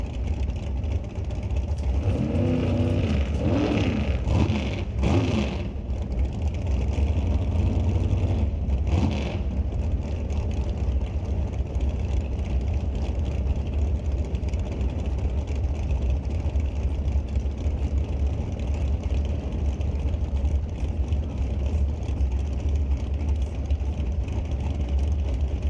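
NHRA dragsters, a white one in the tower lane, sit at the starting line at a Canadian drag strip, their engines producing a loud, continuous, rumbling roar that holds steady throughout with brief swells early on and no voices.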